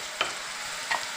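Onion paste sizzling in about three spoons of hot oil, a steady broadband frying hiss with two brief louder crackles or stirs, no voices.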